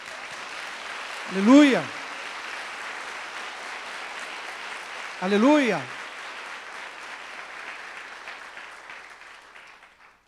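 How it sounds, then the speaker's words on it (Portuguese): A church congregation claps steadily through a Baptist Sunday service, a broad, continuous wash of applause while a voice twice calls out in praise over it. "Uma salva de palmas para o Senhor."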